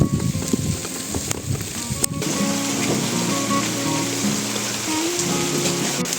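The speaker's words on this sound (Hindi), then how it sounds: "अचानक से तेज़ बारिश आने लग गई।" Sudden heavy rain falls in a hilly farming village in Uttarakhand, a dense steady hiss of drops on surfaces with a few sharp knocks early on and a faint tonal hum underneath.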